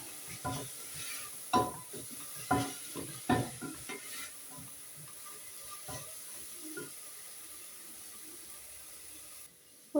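Onions are stirred in a covered pan while cooking a chicken lunch, with a few distinct scraping stirs and clinks early on over a faint, steady sizzle that continues quietly afterward.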